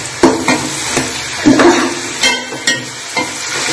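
Tomatoes fry and sizzle in a pan for crab curry while a spoon stirs and scrapes them in loud, uneven strokes close by.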